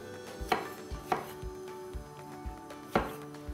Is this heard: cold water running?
no